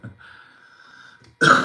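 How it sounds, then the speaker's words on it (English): A faint high hum holds for a moment, then one sharp, loud cough bursts out close by at the end. "That wasn't an ironic cough."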